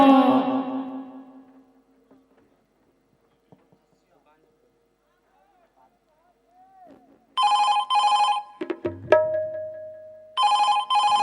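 Telephone rings sound in repeated bursts, loud and close, after a voice fades and a quiet pause, with a brief clatter between the rings.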